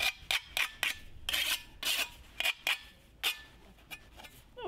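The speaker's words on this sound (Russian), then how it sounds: "Поправлю немножко таким куском наждачки." Piece of sandpaper rubbed over a wooden beehive cover, a series of short, rasping strokes in quick irregular rhythm, close and fairly loud with quiet gaps between.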